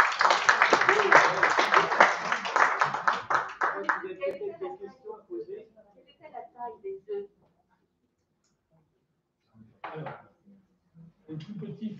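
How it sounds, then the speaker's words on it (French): Audience clapping for a lecturer after a talk on Fabergé, the goldsmith of the Tsars, loud at first and then thinning into scattered claps before silence, with brief bursts of speech afterward. "on vous remercie encore en vous applaudissant très fort"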